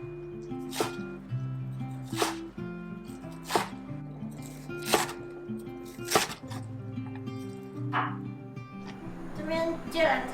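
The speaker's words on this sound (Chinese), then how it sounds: "先将面肠切成斜片状， 芥蓝菜斜切成段状。" A knife chops seitan into slices and cuts Chinese broccoli stems on a board, giving six or seven sharp, evenly spaced chops over soft background music.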